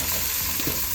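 A little capsicum fries in a pan for a coconut bean stew, making a short burst of close sizzling with a faint stir scrape and no talking.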